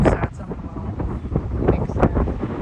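Strong, fierce wind buffets the microphone outdoors beside water, with loud uneven low rumbling gusts throughout and brief bursts of voice mixed in.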